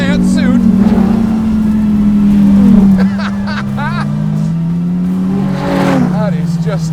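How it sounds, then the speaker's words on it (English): A Dodge Viper ACR's engine roars and revs hard, pitch climbing then dipping as it accelerates, loud and close, with excited voices over it. "That is just a really effective engine."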